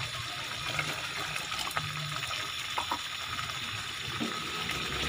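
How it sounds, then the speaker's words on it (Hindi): Water poured into peanut gravy cooking in a pan, a steady close splashing and gushing pour with faint sizzling, continuous for several seconds with no voices. "थोड़ा पानी और डाल दिया ताकि अच्छे तरीके से ये तैयार हो सके।"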